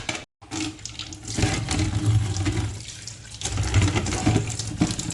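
Water from a tap runs steadily over a dirty frame as it is washed, a close, continuous splashing gush after a brief silent gap at the start, with no talk.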